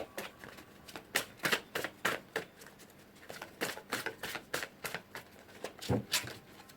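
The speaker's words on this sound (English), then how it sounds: "Shuffling for the rest of the cards" Rapid, crisp riffling of a deck of tarot cards, repeated bursts of shuffling close by, with short pauses between runs.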